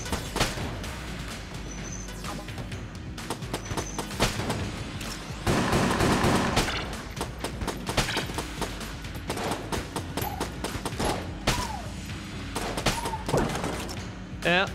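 Rapid gunfire from the video game Enter the Gungeon, dense bursts of shots and impacts with a heavier sustained volley midway, mixed with game effects throughout.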